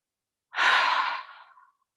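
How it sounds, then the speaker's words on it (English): A group of children takes one big deep breath in together during a kids' yoga rest, a single airy inhale swelling in and fading over about a second, with no talking. "Take a big community breath in to get started."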